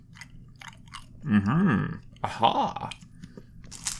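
A sugary Polish sesame seed cracker is crunched in two loud, close bursts of chewing, with quieter mouth sounds between and a brief spoken word at the start.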